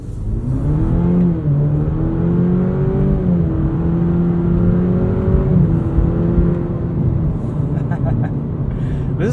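A 2021 Cadillac CT4 V-Series AWD sports sedan being driven hard, its engine droning loudly with rising and falling revs heard from inside the cabin while someone talks over it.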